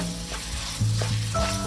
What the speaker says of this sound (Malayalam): ഗരം മസാല ഇട്ട് കൊടുത്ത് നന്നായിട്ട് ഇളക്കി കൊടുക്കാം